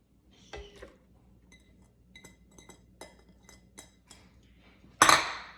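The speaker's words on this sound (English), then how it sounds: "we're gonna open up our food processor, add the spinach and kale." Food processor opened and loaded with spinach and kale: scattered small clinks and taps of glass and plastic parts, fairly quiet and spaced out, ending with a louder clattering knock.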